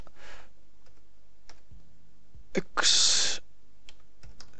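Computer keyboard typing during a modded Minecraft session: sparse soft key clicks, then a short burst of dense clattering keystrokes in the middle, with faint voice and background tones around it.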